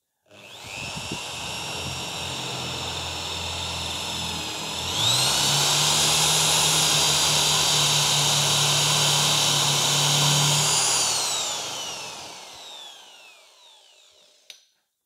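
A power drill fitted with a drill guide whirs up, rises in pitch as it bites, runs steadily while boring a hole, then winds down to silence with a final small knock.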